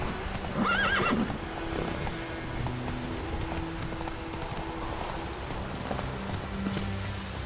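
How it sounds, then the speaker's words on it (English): A horse in The Witcher 3 video game gives a loud whinny and then clip-clops along at a trot, with rain pattering steadily in the background. "Whoa there, Roach."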